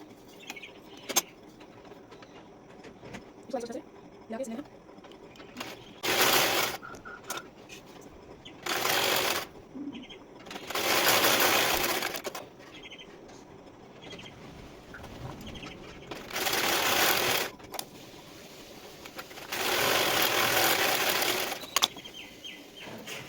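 A sewing machine stitches the side seams of a size-30 blouse in five long, loud bursts, each a few seconds long, separated by quieter pauses with faint handling noise.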